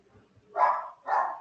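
A dog gives two short barks indoors, moderately close and distinct, with a brief pause between them and quiet room background otherwise.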